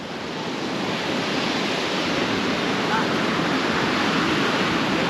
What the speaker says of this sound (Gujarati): ફાઇનલી પૂગી ગયા છે દરિયે.